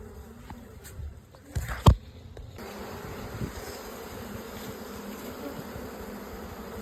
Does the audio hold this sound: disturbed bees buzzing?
yes